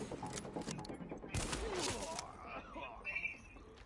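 Gunfire in the video game The Division comes as rapid bursts of shots, fairly faint in the mix, while someone talks over it.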